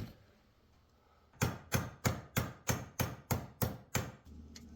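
Nine sharp, evenly spaced hammer blows ring out as rivets are set into the metal band of a medieval-style wall sconce, each strike loud and close and followed by a brief metallic decay after a quiet start.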